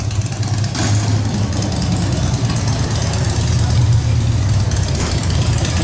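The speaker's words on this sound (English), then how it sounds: "A motorcycle." A motorcycle engine idles and rumbles nearby in an outdoor town square decorated with Christmas lights, a steady low drone that lifts slightly toward the end, with people talking over it.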